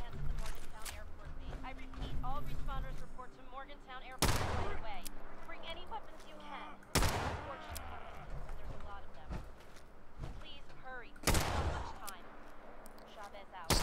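Gunfire in the online video game Fallout 76: a few sharp, loud shots ring out at irregular intervals over steady game ambience, with a player talking throughout.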